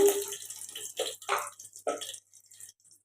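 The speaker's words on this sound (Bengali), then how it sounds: "তেজপাতাটা ধুয়ে দিলাম" Tap water runs over a dried bay leaf in a home kitchen. Uneven close splashing comes in bursts, then thins out to silence at the end.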